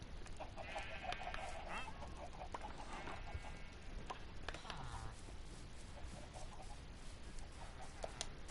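Chickens clucking in a small chicken house in Minecraft, scattered soft clucks and bird calls over a faint steady background.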